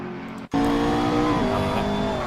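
Two McLaren race cars battle for position at speed, a loud engine roar cutting in abruptly and holding steady close by, with a whining tone across the whole stretch.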